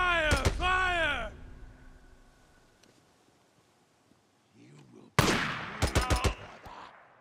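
Gunfire in the Days Gone video game: a burst of sharp shots early on and another cluster of loud cracks near the end, with a voice and groans around them and quieter ambience in between.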